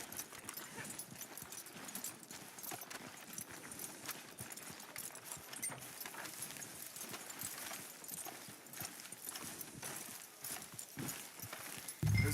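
Rapid, steady clip-clop of horse hooves on a hard surface in Red Dead Redemption 2, quiet and continuous, ending with a brief low thump.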